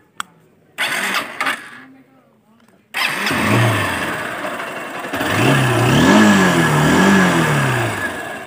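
A Honda CB Unicorn 160 motorcycle engine starts after a few short bursts and then runs at a steady idle with rising and falling revs.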